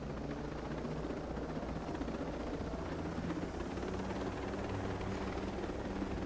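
Helicopter at a basic combat training site, a steady low rotor thump and engine drone holding constant and fairly distant, with no voices.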